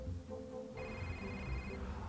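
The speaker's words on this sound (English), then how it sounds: "looks like he's got a phone call" A telephone rings in a comedic spoof set in Pittsburgh, a steady electronic ring tone sounding continuously for over a second over a busy background of music and room noise.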